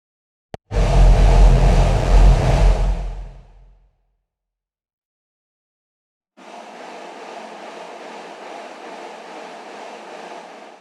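A hardstyle kick drum tail with the attack part intact, processed through Valhalla Room reverb, booms heavily then decays over a few seconds; after a silent gap a steady washed reverb tail sustains alone.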